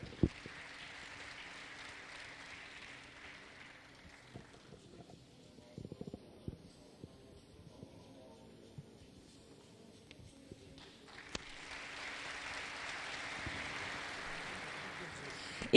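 Applause from a ceremony audience as an award winner is called up at the Neşet Ertaş culture and art festival; a steady rain-like patter of clapping fills the opening seconds, quiets through the middle, then swells again toward the end.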